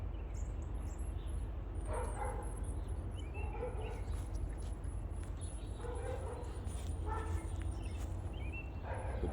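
Several dogs bark intermittently in the distance, with birds chirping high above over a steady outdoor background hum.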